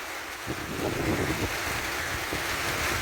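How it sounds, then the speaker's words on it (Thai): Steady wind and rain batter a hut in a rice field during a storm, forming a continuous rushing roar with gusty swells and no speech. "ทั้งลมทั้งฝน ทั้งลมทั้งฝน"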